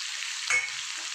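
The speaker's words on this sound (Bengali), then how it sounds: "তারপর আমি পেঁয়াজ আর আদা রসুন যে কুচিয়ে রেখেছিলাম এইটা দিয়ে দিলাম।" Chopped onion, ginger and garlic frying in a hot pan give a steady, close sizzle throughout, with a brief soft thump of stirring near the middle.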